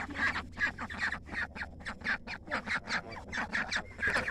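A farm duck quacks over and over at bedtime, loud and close, in a steady choppy run of rasping calls lasting several seconds with no talk over them.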